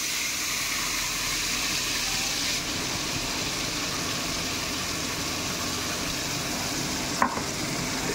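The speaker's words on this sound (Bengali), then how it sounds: "মশলাটা ভালো করে কষিয়ে নেব" Spice paste frying in hot oil in a kadai for chickpea ghugni, a steady close sizzle with stirring that runs evenly throughout, with one brief sharp knock near the end.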